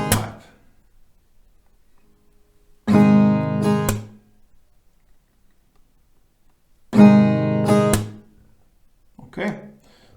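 Acoustic guitar strummed in a down, up, clap pattern for a song lesson, two short strum bursts each ending in a sharp hit, separated by silence, with a brief bit of speech at the end.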